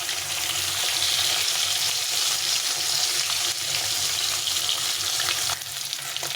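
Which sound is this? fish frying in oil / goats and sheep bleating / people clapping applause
fish frying in oil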